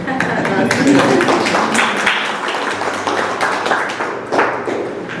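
Applause at a school press conference on 2024 LGS placement results, a room of people clapping with close individual hand taps, steady and moderately loud for several seconds, then thinning out.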